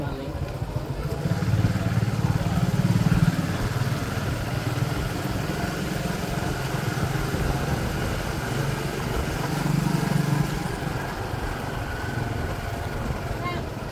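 A petrol motorcycle engine idles with a steady low rumble, swelling slightly twice, while people talk over it throughout.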